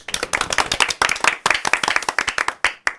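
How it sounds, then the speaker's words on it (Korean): A small audience claps during a public podcast taping at a district office in Seongdong, Seoul: a brisk, irregular burst of close, sharp hand claps that thins out toward the end. "박수"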